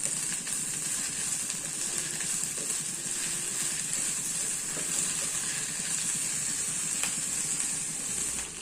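Sliced okra frying in a pan with onions, a steady close hiss and sizzle running continuously throughout with faint stirring, no talking.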